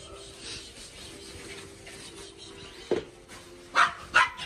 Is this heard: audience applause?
no